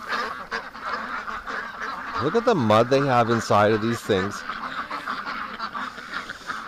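Ducks honk and quack in a short harmonic burst of several calls mid-clip, close and fairly loud, while a person talks over muddy outdoor background noise.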